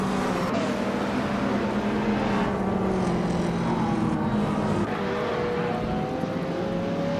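A 1983 Porsche 911 930 Turbo racing at Grindelwald in a video game, with a continuous loud engine roar and shifting whine among other cars, steady throughout with no talk.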